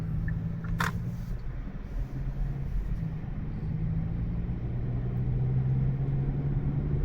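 Steady road traffic rumbles past on a busy street in Boca Raton, Florida, a continuous low engine and tire drone with no breaks, cars flowing by at moderate distance.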